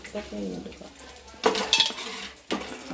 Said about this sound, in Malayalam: കപ്പലണ്ടിയൊക്കെ ഉരുണ്ട് പോകുന്നുണ്ട്